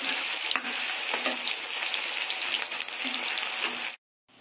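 Onions fry in a pan for okra sabzi, giving a steady, close sizzle with faint crackles and occasional stirring scrapes, with no talking, before the sound abruptly cuts to silence.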